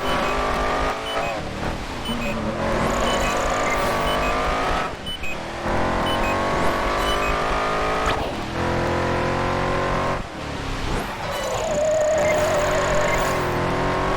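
Loud racing car engines in the video game Project Gotham Racing 4 roar continuously, their pitch climbing and dropping through gear changes, with a brief high tire squeal cutting through.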